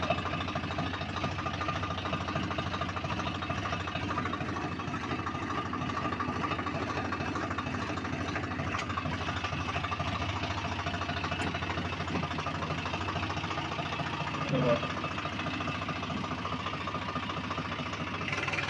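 A vehicle engine runs steadily as it heads down into a field to plough, a continuous close mechanical drone with a faint knocking rhythm throughout, no voices.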